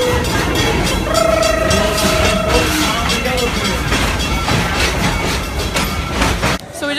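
Busch Gardens train ride rolling along its tracks, a loud steady rumble with rattling, and a brief tonal squeal or horn-like note early on.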